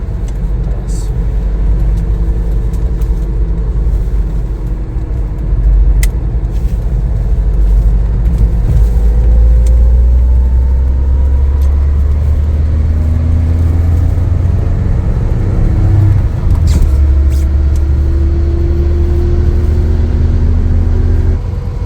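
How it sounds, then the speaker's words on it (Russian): A Lada Niva driving on a highway gives a loud, steady low engine and road rumble with tire roar throughout, heard from inside the car, with a voice speaking over it. "Трасса."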